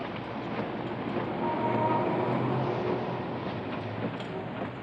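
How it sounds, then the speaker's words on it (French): A metro train running, a steady rumbling roar of wheels and car noise that holds at an even level for several seconds with no voices. "C'est ça, le métro?"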